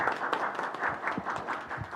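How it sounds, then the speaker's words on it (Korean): Warm audience applause for a committee chair at a Gwangju policy forum on migrant health care, moderate clapping that continues evenly throughout, with a few sharper individual claps standing out. "다시 한번 우리 김기현 위원장님께 따뜻한 박수 부탁드립니다"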